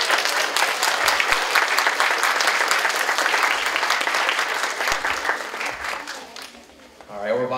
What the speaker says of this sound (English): Let's give a big round of applause to all our poster winners.